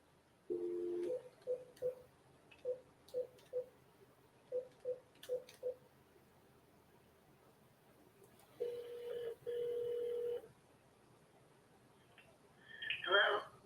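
Telephone redialing a call: a rapid series of short keypad beeps in quick groups, followed by longer ringback tones and a faint voice, recorded quietly.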